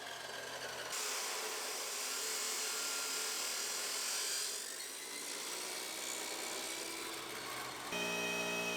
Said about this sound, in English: Now we cut some brackets for the front.